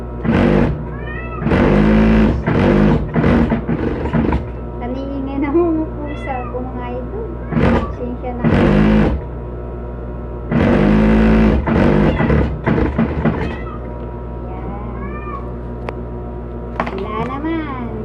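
A cat meows repeatedly in rising, wavering cries, some close together and some overlapping a voice nearby.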